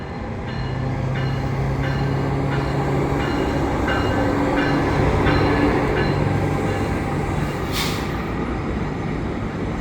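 An EXO commuter train rumbles steadily nearby, arriving at Lucien L'Allier terminal, with rhythmic clicking of wheels over rail joints and a brief hiss of air brakes.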